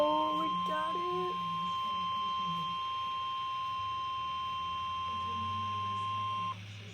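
Emergency Alert System attention tone broadcast over a weather radio ahead of a coastal flood warning, a steady loud beep holding for several seconds after a few short data bursts, with faint room noise underneath.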